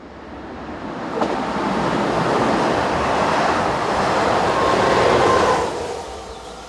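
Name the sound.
passing train hauled by electric locomotive BB 25654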